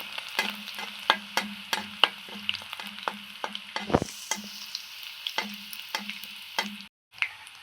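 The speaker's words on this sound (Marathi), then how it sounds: "आता आपण मोहरी टाकू, जिरे आणि लसण, बारीक तुकडे करून घेतलेला लसण" Mustard seeds, cumin and finely chopped garlic frying in hot oil, a close sizzle with rapid irregular popping crackles from the seeds and a brief louder stir in the middle.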